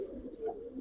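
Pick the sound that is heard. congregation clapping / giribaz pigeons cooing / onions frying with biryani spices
giribaz pigeons cooing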